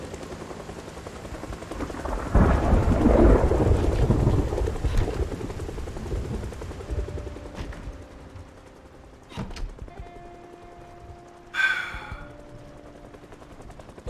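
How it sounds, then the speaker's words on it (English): A helicopter's rotor chop swells loudly for a few seconds amid scattered gunshots in Project Zomboid video game, then fades, followed by sparse thuds and a sharp burst. "That's a helicopter."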